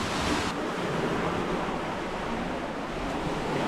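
Sea waves wash onto the shore at Vaippar near Thoothukudi, a steady, loud broadband surf with wind noise across the microphone, no voices.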